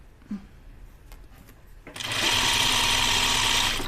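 A sewing machine starts up partway through and runs steadily at full speed, loud and close, stitching dress pieces together for an Upton dress; a faint knock and rustle come before it.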